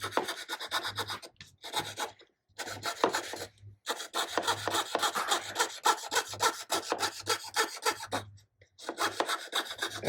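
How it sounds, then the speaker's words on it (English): Steel blade back rubbing and rasping against wood during flat veneer inlay work, a close, steady scraping in repeated strokes with brief pauses between passes. "So actually the back of the blade is what's rubbing on the wood."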